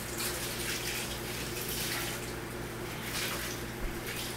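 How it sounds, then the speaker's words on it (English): Tap water runs steadily into a sink during handwashing in a home kitchen, a soft, even hiss and splash that continues throughout with no talking. "Let me wash my hands."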